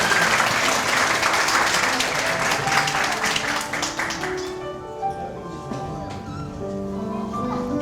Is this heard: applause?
yes